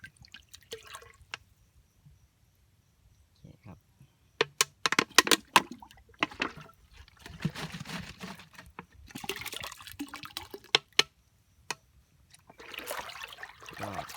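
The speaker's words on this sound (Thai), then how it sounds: "เทหมดขวดเลยนะครับ" A whole bottle of photosynthetic bacteria liquid is poured out, giving close, irregular bursts of glugging splashes and drips separated by short silences, with no talk.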